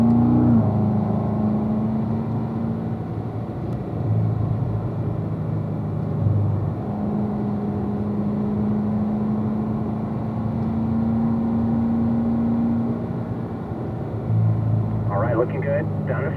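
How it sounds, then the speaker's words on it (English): Car accelerating and shifting up to fourth gear, a steady engine drone with tone changes as gears change, heard from inside under frequent talking. "accelerate up to 4th gear"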